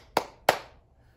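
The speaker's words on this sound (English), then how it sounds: "clap your hands, everybody, clap your hands" Two sharp hand claps in a quiet room, spaced about a third of a second apart, each a crisp close slap with a short decay and nothing else around them.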